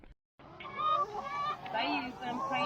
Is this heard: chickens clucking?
yes